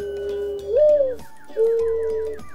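A bird in Minecraft sounds two sustained, tonal calls, one slightly rising and one level, over a steady droning background.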